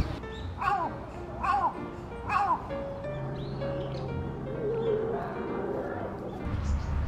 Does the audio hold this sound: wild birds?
yes